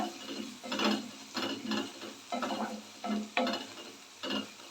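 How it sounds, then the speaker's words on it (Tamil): Curry leaves sauté in a pan, a spatula scraping and stirring in repeated strokes about once every half second over a soft, steady sizzle. "கருவேப்பிலை சேர்த்துட்டு கொஞ்சம் நல்லா வதக்கி விடுங்க"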